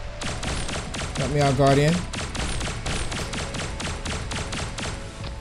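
Rapid bursts of gunfire from Pixel Gun 3D multiplayer combat keep up a steady, dense patter throughout, with other weapon and game effects layered in and a player talking over the shots.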